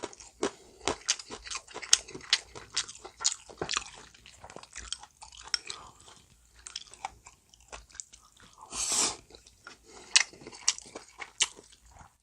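Someone eats a green chili pepper with plain rice, close up. Repeated crunchy bites and wet, squishy chewing come in a quiet room, with a brief louder swallow or slurp midway.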